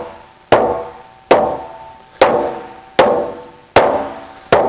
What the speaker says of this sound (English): I use the mallet for that. And the trick is hitting it right on the edge like that.